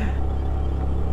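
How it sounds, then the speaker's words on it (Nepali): A Honda Dio scooter engine runs steadily during a ride, giving a continuous low rumble with wind and road noise at an even level and no speech. "हेरौँ अब हाम्रो डिओ स्कुटरको कतिको राम्रो पिकअप छ"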